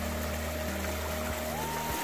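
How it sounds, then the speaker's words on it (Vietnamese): A stream flows along a trail in a steady, soft rush of trickling water, continuous and close, with a faint low hum underneath. "Mọi người nghe tiếng nước chảy thật là yên bình ha"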